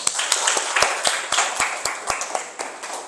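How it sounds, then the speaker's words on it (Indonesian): An audience claps for a group of presenters at a university informatics session, sharp separate hand claps in a loose, steady rhythm that carries on alone for about three seconds, close and fairly loud. "Berikan tepuk tangan untuk kelompok 4"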